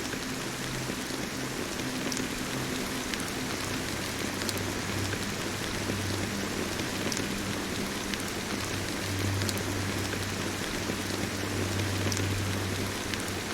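Steady rain falls in a scene from the video game Honkai Star Rail, a constant close hiss of drops spattering on surfaces with a low underlying rumble, no voices present.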